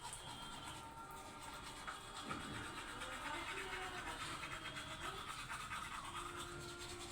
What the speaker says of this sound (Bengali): এরপর সোজা চলে যাব আমি দাঁত মাজতে